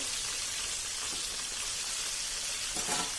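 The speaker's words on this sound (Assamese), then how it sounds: "বেলেগ চাইডটো এনেকৈ তেলত দি দিলোঁ" Soft, steady crackle of a chicken leg frying in shallow oil in a pan, a faint continuous sizzle with occasional small pops.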